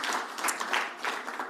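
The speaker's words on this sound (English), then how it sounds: "a big, big, big round of applause for yourselves" Applause from a conference audience at a construction-contract users' event, a dense steady patter of many hands clapping at moderate level with no voices over it.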